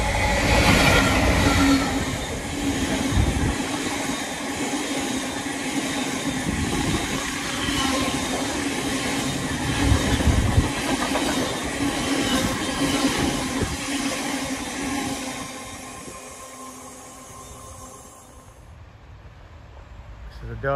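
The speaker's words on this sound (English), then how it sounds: "This is a Derby to Derby network rail train." A Network Rail test train running from Derby to Derby passes near Ambergate. A loud, close roar of rolling wheels and rattling wagons fades gradually toward the end, with some talk in the background.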